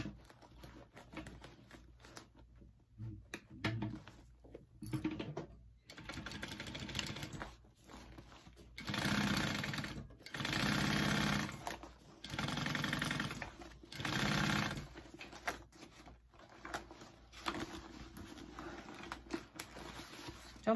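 A sewing machine stitches a handbag in several bursts of rapid whirring, separated by pauses with rustling and handling of the fabric.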